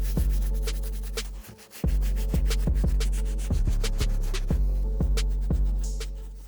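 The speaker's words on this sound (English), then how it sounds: "we're only gonna be using our soft bristle brush to focus on the uppers" A soft bristle brush with cleaning solution scrubbing the uppers of old OG Jordan sneakers in close, rhythmic back-and-forth strokes with a short break partway through.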